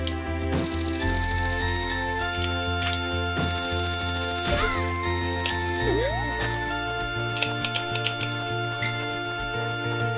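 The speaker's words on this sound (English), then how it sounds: "That's my phone going off." A mobile phone ringtone plays, a repeating melodic electronic tone layered over game music with chimes and sound effects, fairly loud and steady throughout.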